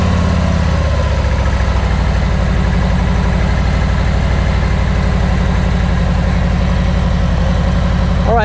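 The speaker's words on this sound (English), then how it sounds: "It's idling about 1300 RPMs" A Harley-Davidson Tri Glide M8 motorcycle with a Rekluse clutch idles loudly and steadily nearby in neutral at about 1300 RPM, a low rhythmic rumble that holds constant throughout.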